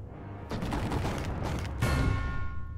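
A tank fires in the Totally Accurate Battle Simulator video game, with rapid bursts of gunfire and booming shots landing in dense clusters, loud and close, the last volley the strongest.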